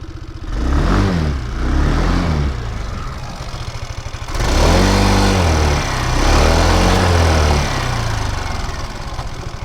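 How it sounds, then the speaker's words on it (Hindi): An Aprilia SR 160 Carbon BS6 scooter's exhaust idles close by and is blipped repeatedly, loud buzzy revs swelling and falling in several distinct bursts. "इसका एग्जॉस्ट नोट सुनते हैं and then will ride it."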